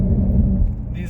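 Wide tires of a Corvette C7 Grand Sport rolling over metal grates near the beach make a steady, loud low rumble and droning hum for about a second, with a faint hiss rising at the end.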